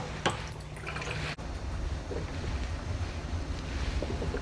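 Water pours into a pot of beans in a home kitchen, a steady splashing rush that runs through the whole stretch, close and fairly loud, with a brief sharp break partway through.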